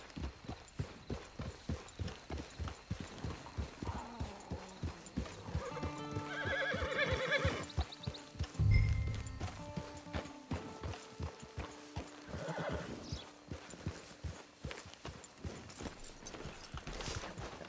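A horse in the Red Dead Online video game clops along steadily with rhythmic hoofbeats, giving a loud whinny partway through, with a low thud beneath it and music or ambience playing throughout.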